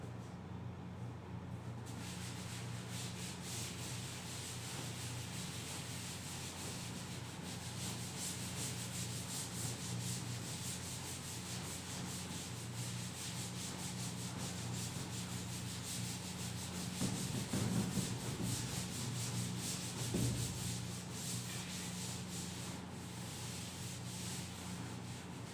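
A duster rubs steadily across a classroom board during a maths lesson, a soft continuous scrubbing under faint room hiss, with no talking.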